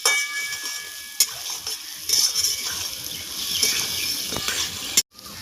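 Coriander powder being stirred into a hot frying pan, a soft steady sizzle with scraping strokes and a few sharper clinks of the utensil, ending in an abrupt cut.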